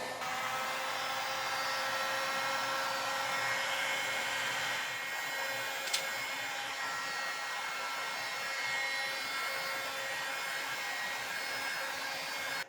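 A heat gun blows hot air onto laminate edge banding of a kitchen cabinet door, a steady, even whooshing roar that holds for the whole stretch, with a tiny click partway through.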